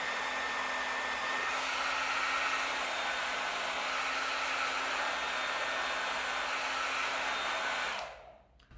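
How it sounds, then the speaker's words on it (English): A handheld hair dryer blows a steady, loud rushing whoosh with a low motor hum upward beneath a tennis ball, then cuts off abruptly near the end. "the tennis ball can't fly because it's got too much weight for the amount of lift that the hairdryer is generating"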